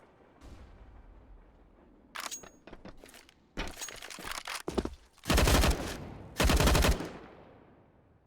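Pistol fire rings out during a Counter-Strike match on the map Train, with scattered shots early on followed by dense, loud bursts of rapid gunfire and short pauses between volleys.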